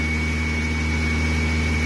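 A Suzuki 2.3 engine swapped into a Geo Tracker idles high, burning off WD-40 on the exhaust: a loud, constant, close-up drone with a thin steady whine riding on top and no voices.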